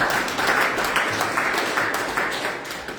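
A church congregation applauds at an ordination celebration, dense, steady clapping filling the room from many hands, fairly loud and continuous without pause.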